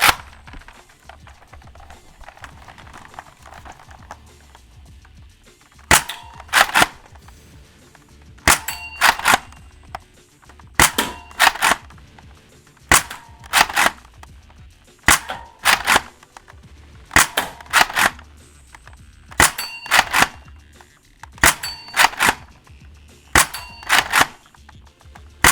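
A foam-dart blaster fitted with a SCAR barrel fires a full magazine of heavyweight Worker Gen 3 darts. About a dozen sharp, loud cracks come in regular bursts with short quiet gaps between them.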